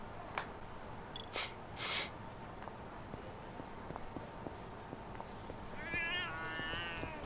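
A cat in a video game meows a few times, first in short close calls and later in a longer drawn-out meow, over a muffled game ambience with faint footsteps.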